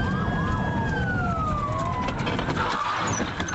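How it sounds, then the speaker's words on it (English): Police car sirens wailing during a high-speed pursuit, several overlapping sweeping tones rising and falling over steady road and engine noise, loud and close throughout. "With several police cars now in hot pursuit"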